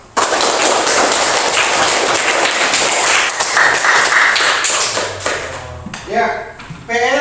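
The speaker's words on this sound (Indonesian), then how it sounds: "Tepuk tangan dulu untuk kita semua" A class applauds together at the end of a lesson, a dense wash of clapping for several seconds that thins out before a voice begins speaking.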